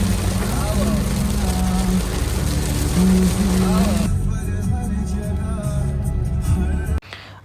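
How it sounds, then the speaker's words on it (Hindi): A car drives through heavy rain on the road to Lucknow, giving a loud, steady rushing wash over a low engine rumble. A voice or music sits on top, and the sound thins partway through before cutting off sharply near the end. "फिर हम अगेन गाड़ी स्टार्ट करके निकल जाते हैं लखनऊ के रास्ते पे, और फिर से होने लगी बहुत ही जोरों की बारिश।"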